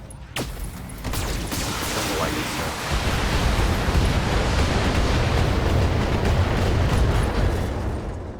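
Mech weapons firing in the BattleTech video game, a sharp blast opening a dense, continuous rumbling barrage of impacts and mechanical noise that stays loud and steady throughout.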